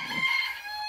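Backyard chickens in a home garden give close, steady clucking and crowing-like calls through a brief burst, with no talk over it.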